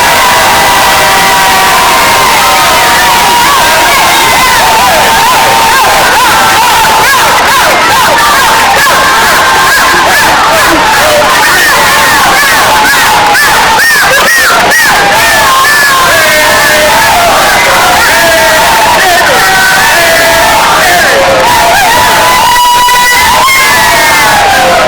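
A loud audience at an adult literacy spelling bee cheers, whoops and shouts continuously to encourage the competing teams, a dense roar of many voices throughout.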